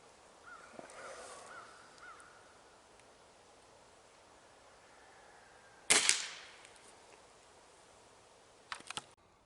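A Gamo Swarm Maxxim air rifle fires one sharp, loud crack midway, with a brief faint clicking afterward; a crow caws faintly earlier in the distance.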